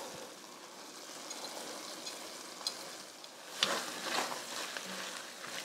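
Diced onions and meat-pie filling sizzle steadily in a pan while a utensil scrapes and stirs, with a louder burst of frying and clatter partway through.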